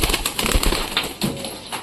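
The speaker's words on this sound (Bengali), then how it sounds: "একে একে সব কবুতরগুলো বের হচ্ছে" Pigeons leaving their coop one by one, with soft wing flaps and faint coos heard close by in quick, uneven bursts.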